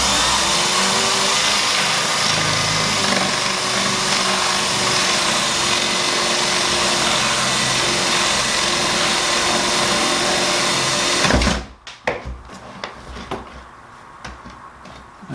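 A power tool cutting plywood for a teardrop camper build, a loud continuous high whine for about eleven seconds that stops abruptly, followed by quieter scattered knocks and handling sounds.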